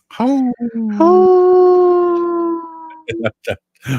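A person imitates a wolf howl, starting with short rising yelps and then holding one long, steady, slowly falling howl, loud and close, before a few brief breathy sounds.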